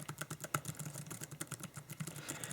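Rapid, soft clicking of keys as someone types steadily on a low-profile chiclet-style Bluetooth wireless keyboard, close up and fairly quiet.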